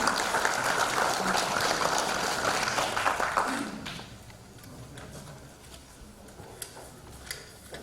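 Applause from an audience at a Democratic Party event marking the 20th anniversary of the June 15 inter-Korean joint declaration, welcoming floor leader Kim Tae-nyeon; dense clapping for about four seconds, then fading into quieter room noise with scattered claps.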